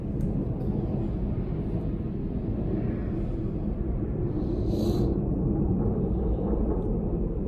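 Military jets from Nellis Air Force Base roar overhead as a continuous, heavy, distant rumble that stays steady throughout and swells slightly toward the end.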